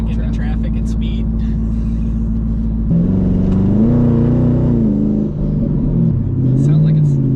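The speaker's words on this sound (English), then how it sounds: "That's a little turbo noise." A twin-turbo Ford F-150 pickup with a 5.0 engine accelerates into traffic, its steady drone climbing then dipping in pitch, with voices inside the cab.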